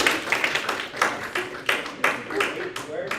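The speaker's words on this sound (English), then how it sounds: "give her a round of applause" A small group at a student government general body meeting claps for a newly appointed legislator, scattered uneven hand claps with chatter and voices mixed in, fairly close and moderate in level.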